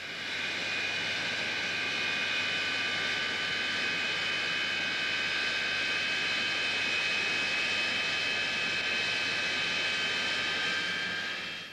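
An English Electric Lightning jet with two Rolls-Royce Avon engines gives off a continuous, loud whining roar, steady throughout with a high-pitched turbine tone over broadband rush, and no voices.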